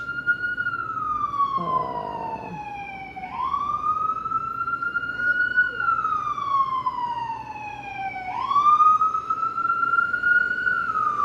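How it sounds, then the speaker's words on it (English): A wailing siren rises and falls in long sweeps, steady and fairly prominent, with traffic rumble underneath. "look, the siren in the background"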